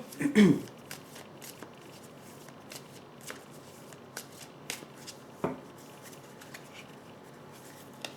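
Tarot cards handled and drawn by hand, opening with a louder shuffle burst, then scattered soft flicks and slides of cards against each other, close and moderately quiet.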